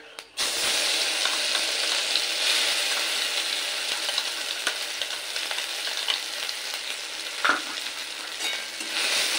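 Ground yardlong bean paste frying with black cumin in a pan for a Bengali borboti bata, a constant loud sizzle with occasional scraping stirs and a few sharp clinks.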